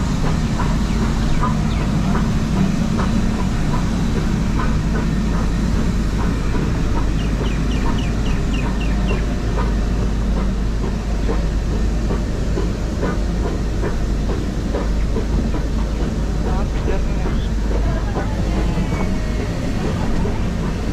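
Mettupalayam to Ooty steam toy train rolling along its mountain rails, a loud steady low rumble with rhythmic clatter and squeaks, continuous with no voices.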